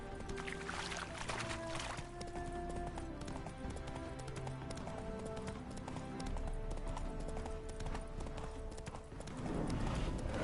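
A horse's hooves clip-clop in The Witcher 3, a steady rhythmic trot under game music and ambient sound, close and continuous throughout.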